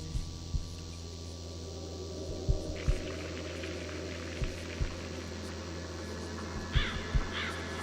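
Crows caw from the haunted Tree of Crows painting in The Lost Crown, a ghost-hunting adventure game. A few harsh calls sound over a low, eerie hum, with scattered sharp clicks throughout.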